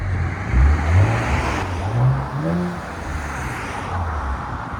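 A 2026 RAM 1500 with the 3.0L Hurricane inline-six and a Flowmaster Super 10 exhaust is revved in short blips, a deep exhaust rumble rising and falling several times close by before settling to idle.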